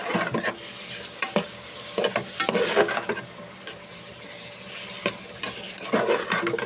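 Whole chilies, cardamom, cloves and cinnamon sizzle steadily in oil in a pan while a spoon scrapes and stirs in sharp, irregular strokes, close up and with no talking.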